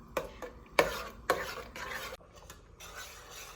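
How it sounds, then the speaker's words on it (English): Sugar is added and stirred into boiling strawberry jam in a pot, heard as several sharp utensil knocks and scraping strokes against the pan, close and fairly quiet, with no talking. "got a boil going, and now I'm adding the sugar"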